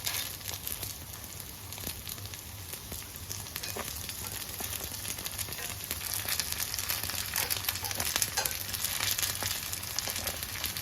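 Sabudana appe, made with minimal oil, fry in an appe pan, giving a continuous soft sizzle with faint scattered crackles that grows slightly louder toward the end, with no voices.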